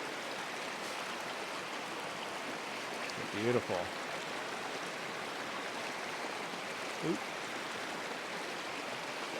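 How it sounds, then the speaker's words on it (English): Pocket water in a river gorge rushes steadily over rocks and through small cascades, a loud, continuous broadband roar close by, with someone briefly speaking over it twice. "I'm just hitting all these little sections of waterfalls flowing down"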